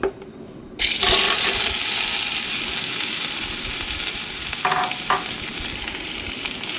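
Mustard seeds fry in hot oil in a pan. A loud, steady sizzle starts abruptly just under a second in and runs throughout, with a couple of brief stirring scrapes near the end.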